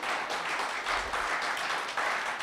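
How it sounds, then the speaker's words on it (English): Steady applause from an audience at a technology innovation showcase, a dense even wash of clapping held at a constant level throughout with no voices over it. "They liked it so much, we didn't have to tell them to applause."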